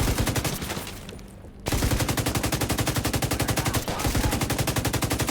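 Automatic gunfire in a video game, a fast, evenly spaced burst of loud shots, a short pause, then a long sustained rapid burst with a brief break, close and alone.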